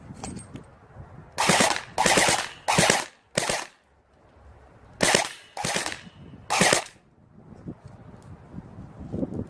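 Airsoft gun on full auto firing at a cardboard target, seven sharp bursts of rapid snapping shots in quick succession with short gaps, close and loud over faint outdoor breeze.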